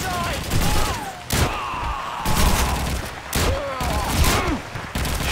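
Enfield rifle shots in Call of Duty 2, a World War II shooter, sound as several sharp loud bangs spaced a second or so apart amid battle noise, with a voice talking over them.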